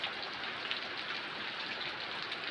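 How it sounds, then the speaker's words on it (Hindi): Heavy rain falling in a village, a steady dense hiss of drops on surfaces with no break, close and even, with no voices. "धूम वर्षा होती है"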